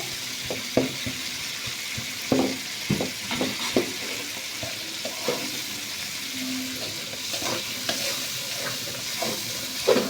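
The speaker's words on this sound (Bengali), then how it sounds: "এগুলাকে একটু ভালোভাবে কষিয়ে নিতে হবে" Chicken pieces and vegetables sizzle and fry in a pan while being stirred, with a steady hiss and frequent scraping and knocking of the spoon, close and continuous without talk.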